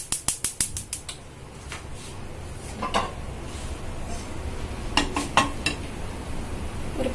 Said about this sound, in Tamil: ஒரு பேன் எடுத்து வச்சுருக்கேன்